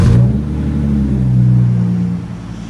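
A 2016 Hyundai Genesis Coupe with a 3.8L V6 and a deleted muffler revs hard and close, a deep raspy engine note that climbs, holds and eases off over a few seconds with no talking.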